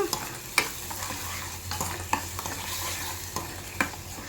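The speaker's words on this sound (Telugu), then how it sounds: "ఇదిగోండి, ఆ పేస్ట్ అంతా వేసాను కదా, ఒకసారి బాగా కలుపుదాం ఇప్పుడు" A spoon stirs masala paste frying in a pan for egg curry, making a soft sizzle under a series of sharp scraping strokes against the metal, with no talking.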